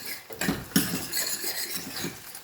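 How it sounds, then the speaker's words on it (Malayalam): A spoon scrapes and clinks against a metal pan of paneer curry in quick, uneven strokes, close by, with no talking. "എന്നിട്ട് അത് ഒന്ന് നല്ലവണ്ണം ഒന്ന് ഇളക്കാം"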